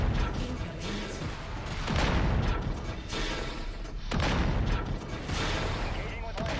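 Missile explosions in the video game MechWarrior 5, a dense run of heavy booming impacts and rumbling blasts rolling one after another, loud and close, with radio voices speaking over the barrage.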